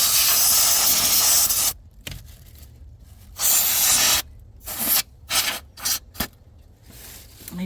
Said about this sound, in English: I just want to spray some of this compressed air around to get the major dirt